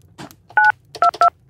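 Four crisp telephone keypad tones dialing a number, short beeps in an uneven sequence over faint low background hum, with no speech.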